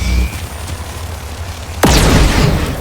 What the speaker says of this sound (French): c'est une arme qui envoie des explosions.